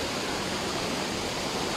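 A waterfall at a cave in Catemaco gives a dense, even roar of falling water, loud and close with no break.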